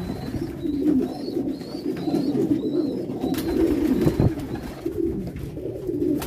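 Pigeons coo softly and repeatedly nearby, low throaty rolling calls in an uneven rhythm, with faint higher chirps and a few light knocks mixed in.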